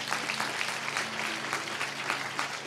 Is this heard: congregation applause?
yes